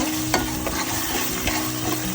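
Ginger garlic paste frying in a pan, for a village-style curry of free-range country chicken with new potatoes, giving a steady close sizzle broken by a few stirring scrapes, with no talking.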